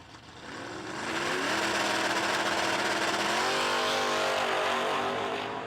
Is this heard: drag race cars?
yes